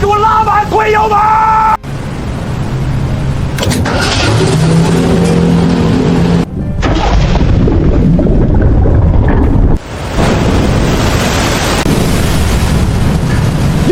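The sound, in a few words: boat engine pushed to full throttle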